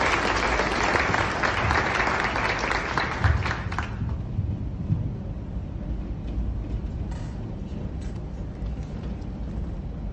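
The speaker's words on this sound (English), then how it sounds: "Let's give JT a round of applause." Loud, dense audience applause at a graduation ceremony greeting a student speaker, strong for the first four seconds and then thinning into a quieter, lingering patter of claps.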